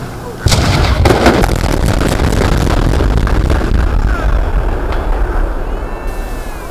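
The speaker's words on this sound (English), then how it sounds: "That is the sound of several thunderous explosives that didn't serve their purpose Sunday morning in Pontiac," Explosive charges set off in an attempt to demolish the old Pontiac Silverdome stadium in Pontiac, Michigan: a sudden loud boom followed by a rapid series of rumbling blasts and a sustained roar fading slightly, heard from a distance outdoors.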